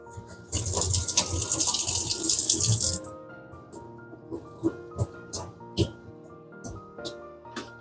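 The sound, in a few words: water draining through indoor plant pots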